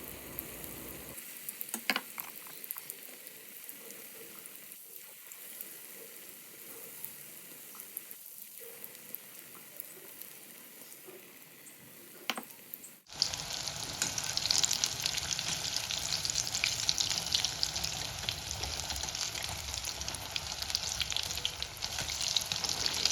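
Slices dipped in batter drop into hot oil to fry as pakoda fritters; quiet crackles and a few sharp spatters give way to a loud, steady, hissing bubble that carries on to the end, with no voices.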